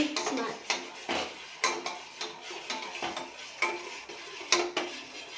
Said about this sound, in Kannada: ಈಗ ನಾವು ಆರಿಸಿ ಈ ಕಾಫಿ ಪೌಡರನ್ನು ಇದರೊಳಗೆ ಹಾಕಿ